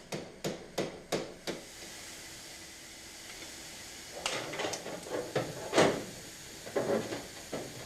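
A hammer taps a fabricated sheet-metal roof panel on a Sport Quattro replica, with five sharp, evenly spaced knocks at first, then a pause and a looser cluster of duller taps and handling noise.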